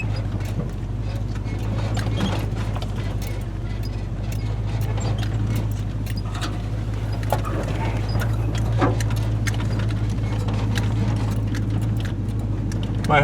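A four-wheel-drive vehicle climbs a steep dirt track in first gear, high range, its engine giving a steady low drone throughout, with scattered knocks and rattles from the rough ground.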